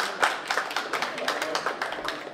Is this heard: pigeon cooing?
no